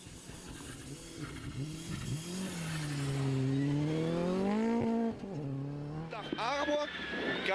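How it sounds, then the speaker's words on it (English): Ford Fiesta R5 rally car on a slippery, icy stage on studded tyres: an engine note that rises and falls through the gears, with sharp revving, tyre noise and gear changes, and a voice talking over it. "This is Jean-Michel Raoult in another Ford Fiesta R5"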